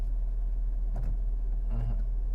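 A car idles with a steady low hum while a beginner driver works the gearshift, with a couple of faint knocks from the gear lever and no talking.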